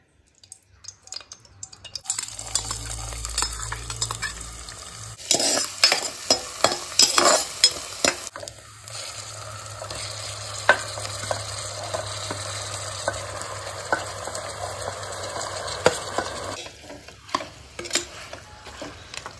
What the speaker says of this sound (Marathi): त्याच्यात तेल घालून कांद्याची फोडणी करूया